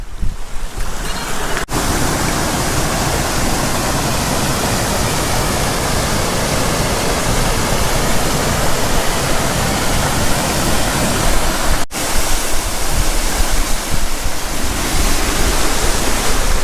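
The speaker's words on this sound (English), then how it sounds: "let's go and check this waterfall out" A Scottish waterfall pours as a loud, continuous roar of churning water close by. Gusts buffet the microphone and two brief dropouts break the rushing sound. No one speaks.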